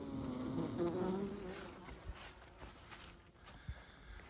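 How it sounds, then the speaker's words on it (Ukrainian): Bees hum in a steady, low drone inside a solid oak hive log at a forest apiary after the first snow, strongest at first and then fading, with a few soft knocks and taps in the background. "Вони бджоли."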